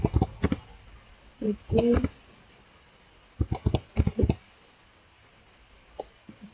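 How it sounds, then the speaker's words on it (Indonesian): Computer keyboard keys clatter in short bursts of rapid clicks with pauses between them, typing a Cisco password search into Google, close and fairly quiet. "kita bisa pergi ke Google, kita ketikkan Cisco password"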